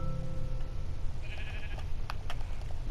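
A sheep bleats in a blocky sky-island survival video game, a brief tonal call in the middle of a steady background hum and soft clicks.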